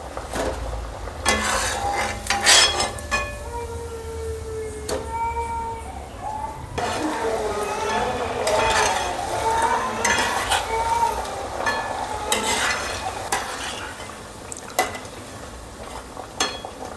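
Cabbage vadi fry in hot oil with a steady crackling sizzle, punctuated by metal utensils clinking and scraping against the pan as the pieces are turned, close and fairly loud.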